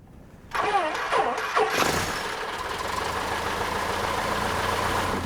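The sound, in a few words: tow plane engine for glider launch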